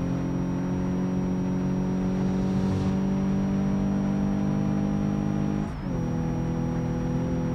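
An overheated Subaru car engine straining in the video game BeamNG.Drive, a steady sustained high-revving drone held at its limit, briefly dipping and recovering near the end, loud and continuous.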